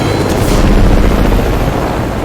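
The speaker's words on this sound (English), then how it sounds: "Oh my god, another chopper." A helicopter in a video game during a limited-time mode match, a loud, steady rotor roar that fills the whole moment with dense low thumping and a wash of noise, no talk over it.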